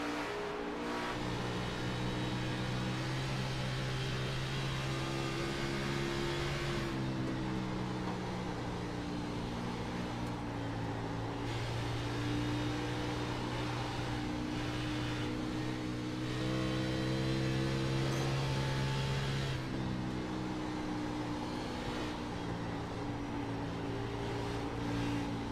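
A race car engine in a sim racing game at Dover drones continuously, its pitch rising and falling with throttle through the corners, steady and loud for the whole stretch with no voices.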